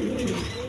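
A light-coloured pigeon gives a soft, low coo close by, one short rolling call heard alone.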